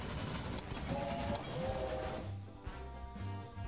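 Express train in the Railway Empire strategy game rolling along with a steady low rumble and rail clatter, a faint whistle-like tone rising briefly midway, continuous and moderately loud with no talking.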